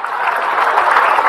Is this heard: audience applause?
yes